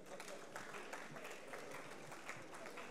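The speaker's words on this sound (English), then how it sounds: "So please give your rounds of applause to them" Audience at a certification ceremony applauding, a short even patter of many hands heard from a distance, with no talking.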